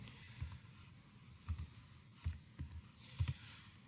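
Faint, sparse clicks of keys being pressed on a computer keyboard while typing commands at the command line. The taps come in small irregular clusters over a quiet background hiss, with no voices.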